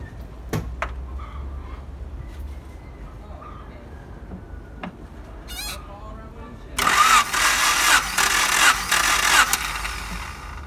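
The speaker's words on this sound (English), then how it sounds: "I release the gauge and then crank the engine." A Honda Accord or Civic engine cranking over during a cylinder compression test, as a loud burst of starter and engine noise in the second half after quieter workshop sounds and brief clicks.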